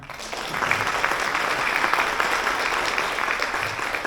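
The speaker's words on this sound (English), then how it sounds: "a big round of applause for MLA Chris Palmer" Guests at an Adult Learners' Week celebration applaud for MLA Chris Palmer, a steady, fairly close round of clapping that stays even and full for about four seconds.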